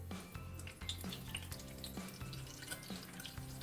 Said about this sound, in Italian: Per friggere, olio di semi d'arachidi, lo mettiamo sul fuoco, lo facciamo scaldare 130-140 gradi